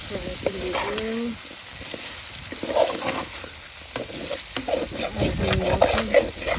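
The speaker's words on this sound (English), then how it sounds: "I'll fry it in the oil." Duck meat for curry sizzles and crackles as it fries in hot oil in an outdoor farm kitchen, with steady bubbling, occasional spatters and stirring clatter throughout.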